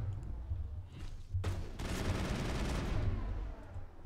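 Rapid continuous gunfire from a weapon in the video game Mass Effect, a dense rattling burst starting abruptly and sustained loudly for several seconds over a low rumbling background.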